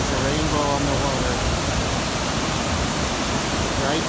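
The Iguaçu waterfalls produce a constant broadband roar of heavy falling water that stays dense and loud throughout, with a faint voice underneath.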